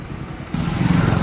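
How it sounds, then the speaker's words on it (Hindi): A motorcycle engine with a worn clutch runs, and a low rattling, clattery growl rises as the clutch is released. The sound is close and steady, with no voices. "ऐसे चल रहा है अभी, तो क्लच छोड़ेंगे ना तो आवाज़ खड़खड़ करके आ रहा है"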